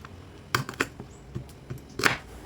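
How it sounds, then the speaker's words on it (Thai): A knife slicing through crispy air-fried pork belly, a few sharp, crackly crunches in quick bursts close up, with quieter ticks in between. "ลองดูสิคะเสียงกรอบมากเลยค่ะ อันนี้กรอบมากเลยค่ะ เลยเรามาฟังเสียงหั่นดูนะคะ"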